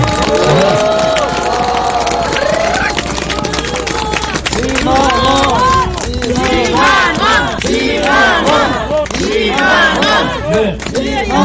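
A crowd outside Seoul Detention Center cheers and claps at a welcome press conference, loud and sustained, with excited shouting and overlapping voices over the applause.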